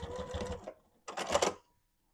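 A sewing machine stitching a small fabric sardine bag charm and lip gloss holder, two short close bursts of rapid mechanical whirring separated by a brief pause, then silence.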